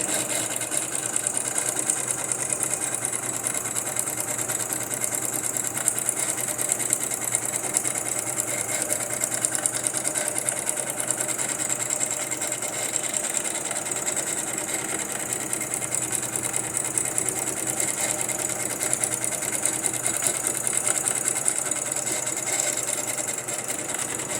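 A sewing machine stitches paper strips, running continuously at a quick, even rhythm, its rapid mechanical clatter close and steady.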